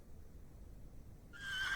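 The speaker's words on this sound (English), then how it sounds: "I would assume this is probably Lord Panswick's horse" A horse whinnies in the video game The Excavation of Hob's Barrow, a short, bright neigh rising out of a quiet ambient background near the end.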